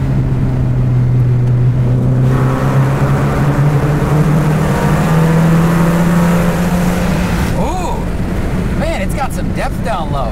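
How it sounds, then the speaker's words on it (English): A Mercedes 190E engine revving inside a tunnel, a loud droning exhaust note that climbs and holds in pitch with echoing reverberation, then drops away as another sweeping pass of sound follows near the end. "All right, now we'll slow down for tunnel noise."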